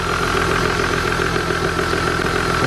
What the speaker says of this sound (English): Vanos rattling very badly